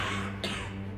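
A single short cough bursts out once, briefly, over a steady low hum, with no talking.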